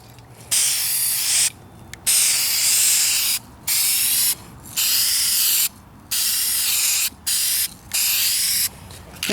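Duplicolor spray paint hisses out in about eight short bursts of a second or so, separated by brief gaps, as a light tack coat goes onto a 2004 Kia Spectra rear bumper. The bursts are close and loud.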